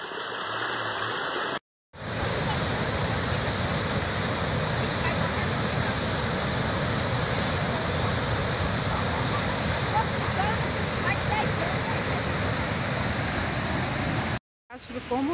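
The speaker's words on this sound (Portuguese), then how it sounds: "E tá descendo bastante água" Heavy rainwater rushes steadily and loudly during continuing rain, a constant torrent roar that fills the scene after a brief break, with no talking.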